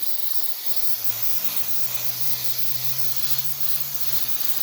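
Spray glue goes on as a coat for carpet pad inside a custom C10 truck, making a steady, close, continuous hiss that runs unbroken throughout with no talking.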